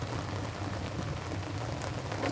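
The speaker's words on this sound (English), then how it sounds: "Look at the rain, bro." Rain falls on a boat in a crawfishing basin, a dense, steady hiss of drops with scattered sharper taps, close and constant throughout.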